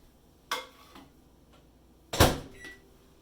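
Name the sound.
microwave oven door opening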